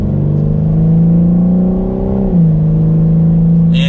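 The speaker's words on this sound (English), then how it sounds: "we'll let the vehicle accelerate and shift itself." A 2021 BMW M4 Competition in normal mode accelerates on its own from inside the cabin: a loud, steady engine drone rises, dips briefly at a gear shift around midway, then holds on.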